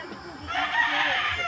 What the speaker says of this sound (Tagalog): Hindi ako makalapit sa mga manok, nanunuka yan eh.